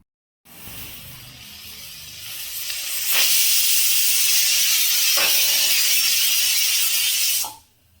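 A pressure cooker cooking tomato bath lets out a loud, sustained steam whistle and hiss. It starts abruptly, swells stronger midway with brief rattling catches, then cuts off sharply near the end.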